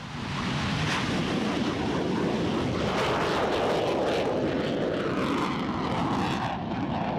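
A CF-18 Hornet fighter jet with two F404 engines roars loudly and continuously as it takes off, a broad rushing thunder that stays strong throughout.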